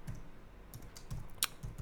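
Quick keystrokes on a computer keyboard type a short site name, a handful of light irregular clicks close up in a quiet room.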